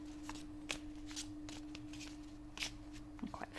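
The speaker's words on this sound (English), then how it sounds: "So I'm going to shuffle the cards." A square oracle card deck is shuffled by hand, giving soft, quiet riffling and slapping bursts at an irregular pace over a faint steady hum, with no talking.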